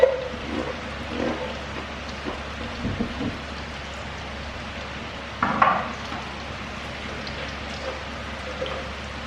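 Onion and garlic sauté in a pan with a soft, steady sizzle under a low background hum. A few faint stirring clinks and scrapes rise above it now and then.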